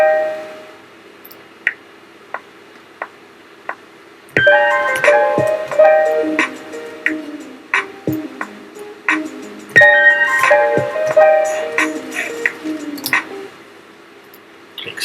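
Piano notes played on a MIDI keyboard into Logic Pro X, a few single plucked-sounding notes followed by bursts of chords and melodic runs, clear and close with short pauses, no talking.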